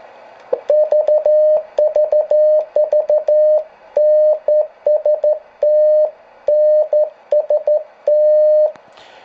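Single-tube HART 25 QRP transmitter running a 313 bulb, received as a loud, steady Morse tone keyed in quick irregular dots and dashes, close and clear with no talking.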